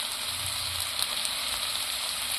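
Spiced paste water poured into a hot pan while cooking prawn biryani, a steady hissing sizzle that holds at an even level throughout, with no voices.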